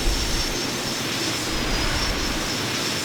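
Four jet engines of a Northrop Grumman B-2 Spirit stealth bomber in Microsoft Flight Simulator 2020 roar steadily at high throttle, a loud, continuous broadband rush with a thin high whine above it and no talk.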